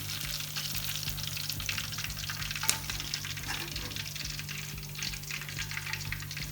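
Fish pieces for a Lahori restaurant-style fish fry sizzle steadily in oil over low heat, a continuous close crackle with occasional stirring clinks and a brief louder pop midway.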